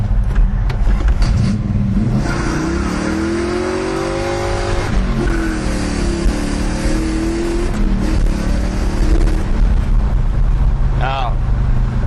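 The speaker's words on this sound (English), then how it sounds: "And we're going to stop and do a little roll and just light it up a little bit through first gear here, Jeremy." A loud, deep big-block engine in a custom El Camino with a four-speed revs hard and climbs in pitch, easing and surging again as it pulls through first gear, steady and close throughout.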